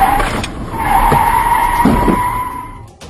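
Car tyres skid as a speeding Innova forces a wedding car to stop, a loud sustained tyre squeal over close engine and road noise that fades out at the end.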